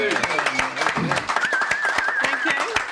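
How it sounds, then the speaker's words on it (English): Applause breaks out at a live talk show for a newly engaged couple, with quick claps running steadily under overlapping voices and a wavering whistle-like tone. "big round of applause"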